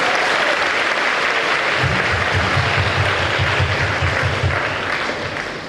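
A school audience at an author's visit applauds in a sustained, dense burst of many clapping hands, loud and steady before tapering slightly at the end.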